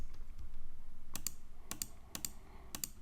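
Computer keyboard keys clicked while working in Adobe Illustrator, including presses of the Shift key, four quick paired clicks spaced evenly, close and crisp over a low background hum.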